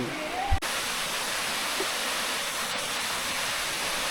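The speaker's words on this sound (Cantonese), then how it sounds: "仲有一個瀑布喺上邊。" A steady, loud roar of water from a waterfall further up the mountain in Maluanshan Country Park, Shenzhen, close and constant, with a brief thump at the start.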